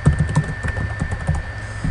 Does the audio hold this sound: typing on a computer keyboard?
yes